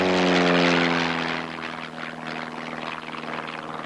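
A SEPECAT Jaguar jet in an intentional spin over a test range roars loudly at first, then the engine noise fades a little and pulses unevenly as it continues.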